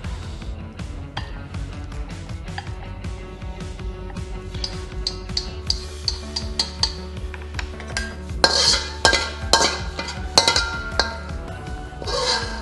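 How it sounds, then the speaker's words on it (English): A wok handle clanking against its stand during a shrimp and leafy green noodle stir fry, repeated metallic clinks and knocks in an uneven rhythm, growing busier and louder toward the end, with no voices. "I just love the sound of wok handle"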